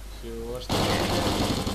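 Automatic gunfire in the video game S.T.A.L.K.E.R. Call of Pripyat erupts after a short spoken phrase, a loud rapid burst of shots rattling continuously to the end with a sharp metallic ring at the finish.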